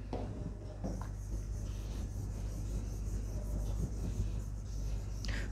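A board in a maths class is wiped clean with steady rubbing and scraping strokes, close and fairly quiet, with a few sharp taps in between and no talk.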